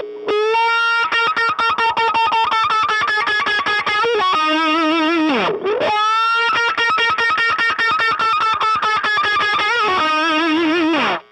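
Distorted electric guitar played with rapid, steady picking and sweeping string bends that dip and rise, filtered through a wah pedal, loud and continuous with no talking.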